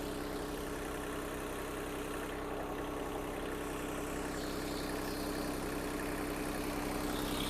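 The small diesel engine of an Iseki TM17 tractor idles steadily, a constant low chugging hum with no pauses and no voices.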